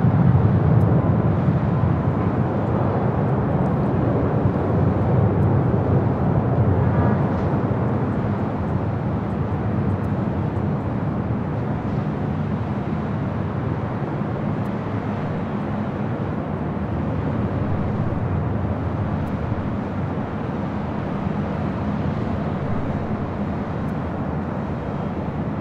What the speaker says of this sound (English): the Singapore Airlines 777-300ER now rolls down to 24 left here on the north side